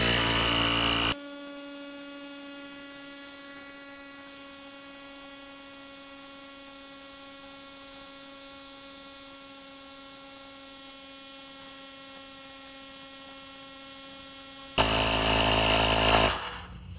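A portable tire inflator pumps a Tesla tire up to 42 PSI, giving a steady, droning electric motor hum that runs unbroken for about thirteen seconds. Louder broadband noise sits on either side of the hum.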